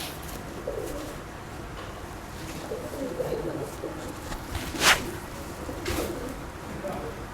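Rooftop pigeons in Karachi coo softly now and then against steady ambient noise, with a sharp brief sound near the middle and faint indistinct voices in the background.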